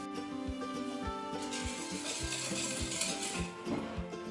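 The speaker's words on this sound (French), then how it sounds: "Et je viens tout simplement fouetter brièvement, histoire de faire fondre les cristaux." Brown sugar being whisked briefly into a mixture in a bowl to dissolve the crystals: quick, regular clinks of a whisk against the bowl, close and fairly loud, over steady background music and with no one speaking.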